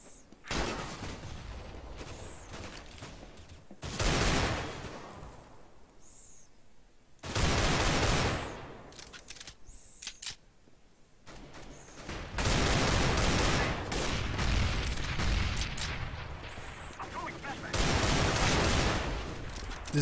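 Desert Eagle pistol gunfire in Counter-Strike: Global Offensive: loud, sharp shots come in bursts and clusters separated by quieter stretches, with echoing tails and busy gameplay noise in between.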